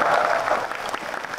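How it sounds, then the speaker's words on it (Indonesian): A crowd at a public event in Purwakarta bursts into a short round of applause, clapping densely and fairly close, then thinning out slightly within a second and a half. "Tepuk tangan semuanya."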